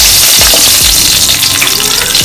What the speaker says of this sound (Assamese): পটল আৰু আলু ভালকৈ ভাজি লওঁ।